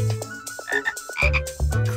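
Cartoonish frog croaks from a Frog Feeder educational video game, several loud bursts over bright game music and chimes, with no talking.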